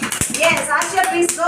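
Preschool children give a brief round of claps for a classmate named Ashiya, scattered sharp hand claps nearby in a classroom while a teacher and kids talk over them.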